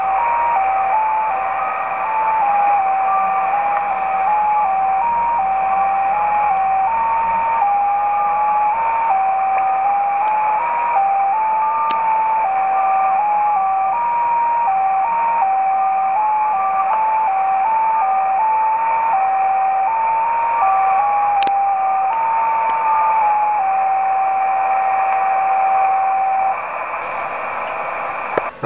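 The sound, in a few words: JT65 digital mode tones received on Yaesu FT817ND radio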